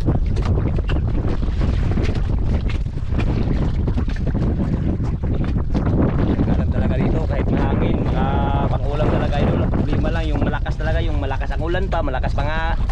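Strong wind at sea during a typhoon buffets the microphone with a constant roar, water sloshing around a fishing boat beneath, and people talk under the gusts.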